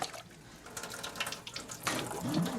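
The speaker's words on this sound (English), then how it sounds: "turn on the warm water and we put some," Warm water runs steadily from a tap into a sink, a close, continuous splashing rush that swells slightly louder toward the end.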